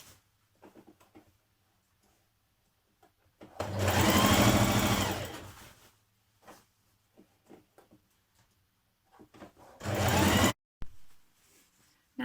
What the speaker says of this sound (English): Stitch in your tape with a 1 cm seam.